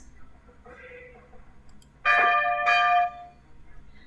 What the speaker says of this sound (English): The sound of the bell rings.